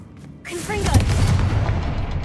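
A Confringo fire spell blast from Hogwarts Legacy erupts after a brief quiet lead-in, a loud booming burst followed by sustained rumbling crackle, with a voice speaking over it.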